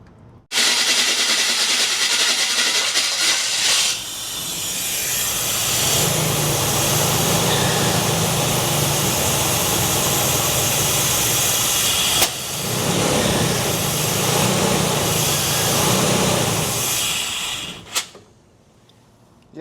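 An abandoned 1979 GMC truck engine, left 25 years under a tree, cranks and runs with a loud, steady roar and hiss, dipping briefly midway before continuing and cutting off near the end.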